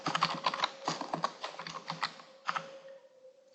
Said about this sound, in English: I'm going to type in response.